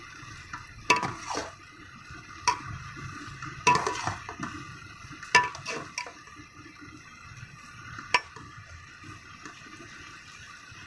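A spoon stirs carrot halwa made with milk and eggs in a pan over high heat, giving intermittent scraping clinks against the metal every second or two above a low, steady simmer.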